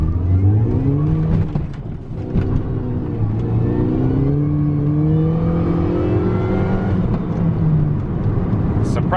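A flood-damaged Mini Cooper S R53 pulls away and accelerates, its engine note climbing through the gears as a loud, steady drone with rising harmonic sweeps close by.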